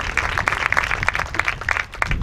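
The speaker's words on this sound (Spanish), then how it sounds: "Otro aplauso fuerte." An audience at a village comedy show in Majuges claps loudly and steadily for a couple of seconds, with dense, overlapping handclaps filling the space.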